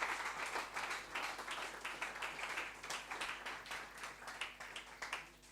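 A church congregation applauding after a scripture reading, steady rhythmic clapping throughout, moderately close and dense, with some faint voices mixed in.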